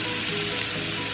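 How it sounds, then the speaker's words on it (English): Zucchini and tomato sauce cook in a skillet for skillet lasagna, giving a steady, dense sizzle that stays close and even for a brief moment. "so I'm stirring the zucchini, stirring the tomato sauce"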